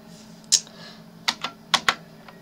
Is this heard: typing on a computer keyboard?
yes